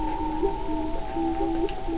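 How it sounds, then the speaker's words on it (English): A frog croaks in the Looney Tunes: Back in Action video game, a low, steady tonal drone with faint pulsing that holds for two seconds without any talk. "Whoa, I hear a frog."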